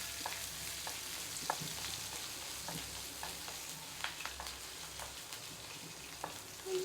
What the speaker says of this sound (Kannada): ಕರಿಬೇವು and chillies. Fry fry fry.